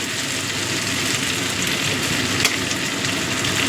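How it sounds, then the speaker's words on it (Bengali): Ginger garlic paste hits hot oil in a pan and sizzles, giving a steady, loud, crackling fry close by with one brief sharper pop. "আদা রসুন বাটা দিয়ে দিচ্ছি।"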